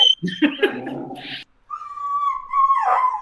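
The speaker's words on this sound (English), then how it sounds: "Our dogs want to chime in at this time." Excited dogs indoors give a few quick yips and barks, then a drawn-out, wavering whine, close and fairly loud.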